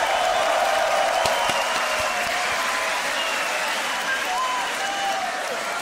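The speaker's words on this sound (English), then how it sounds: "I'm gonna ask you to make some noise for Napom, for Zekka, for that battle." Crowd at a beatbox battle applauding and cheering loudly and steadily, a dense wash of clapping and shouts that carries on throughout without a break.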